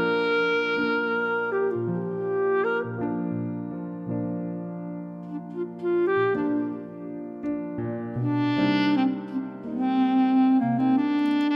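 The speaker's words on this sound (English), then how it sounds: "we're going to hear one time through the melody with the regular chords, and then one time through with the reharmonization" A keyboard plays the melody of a song over regular chords, sustained notes moving in a slow phrase, close and clear with no talking.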